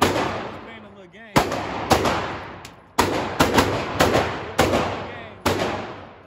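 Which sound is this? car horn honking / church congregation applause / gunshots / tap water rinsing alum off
gunshots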